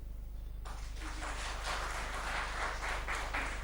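Audience applause breaks out after a brief quiet moment at an interview event before the Uttar Pradesh election, a dense wash of many hands clapping that holds steady and moderately loud to the end, with no talk over it.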